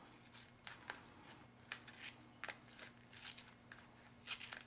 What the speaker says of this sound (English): you're going to trim your book page off at the edge of the tag